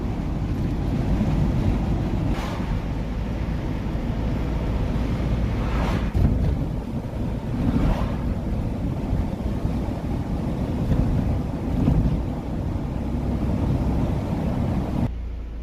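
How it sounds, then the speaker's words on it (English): A Mercedes Sprinter 2.1 van with a blocked, ash-filled diesel particulate filter drives steadily along with a low rumbling engine and road noise, plus occasional bumps and wind, and no one speaks. "We're going to take the vehicle for a drive."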